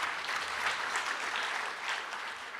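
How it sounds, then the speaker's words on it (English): An audience at a national parole review summit claps steadily in a sustained round of applause, dense and even throughout, with no speech over it. "Let's give them a round of applause."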